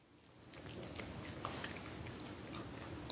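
A dog chews a treat with faint, close, wet munching and small biting clicks, quiet and steady for a few seconds with no talking.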